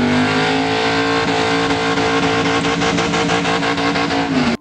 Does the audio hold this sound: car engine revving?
yes